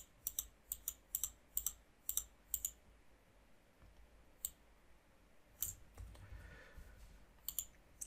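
A computer mouse clicks in a quick series of sharp, close taps, several evenly spaced in a burst, then a few scattered clicks after a pause, with faint keyboard-like ticks and no talking.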